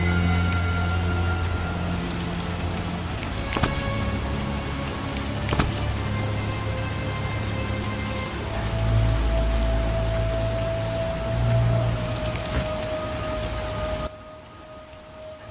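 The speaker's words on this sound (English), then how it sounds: "Some rain." Steady in-game rain in The Witcher role-playing game, a continuous even hiss that runs under faint background ambience and musical tones, cutting off abruptly near the end.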